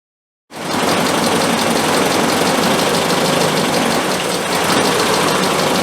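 A classic car engine fitted with twin SU carburetors starts up abruptly and runs at a fast, loud, steady idle with a rough mechanical clatter, close to the microphone, during carburetor tuning.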